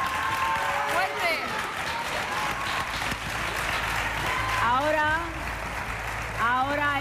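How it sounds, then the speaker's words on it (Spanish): Audience applause fills a Spanish TV gala studio, loud and sustained, with a host's voice and sung or spoken tones rising over the clapping at intervals. "Un aplauso. Fuerte."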